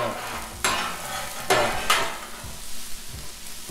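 Ham frying and being stirred on a Blackstone griddle, a steady close sizzle broken by several sharp scraping strokes of a spatula against the hot flat-top, with no talking.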